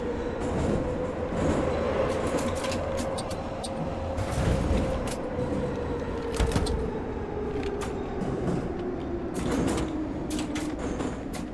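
Kiev metro car 81-710 Ezh3 in the game Garry's Mod Metrostroi running along the track, a steady loud rumble with a low hum that slowly shifts in pitch and brief sharp rattles and clanks at intervals.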